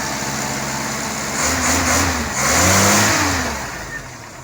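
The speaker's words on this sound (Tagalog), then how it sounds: "Parang tunog na ng kotse." A jeep engine idling then revving up twice in smooth rising surges, close and loud, settling back afterward.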